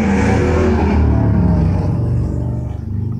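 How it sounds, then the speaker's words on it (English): Motor traffic passing outside, a loud close roar of engines that swells, holds, then fades away over a few seconds, with no voices. "There's a bunch of trucks outside. I mean, motorcycles."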